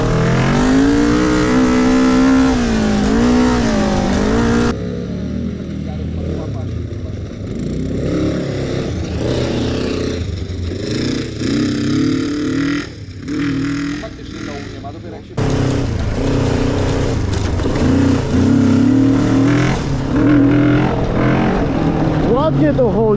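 A Kawasaki GPZ 500 motorcycle engine revs loudly up close, pitch rising and falling through throttle blips, with a person talking over parts of it.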